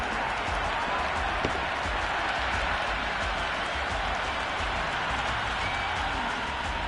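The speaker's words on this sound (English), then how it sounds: "the crowd have joined the party. It's pretty noisy at the ground" Dense crowd roar at a cricket ground in a video game, a steady broadband wash of cheering and clapping that holds at a constant level throughout with no clear breaks.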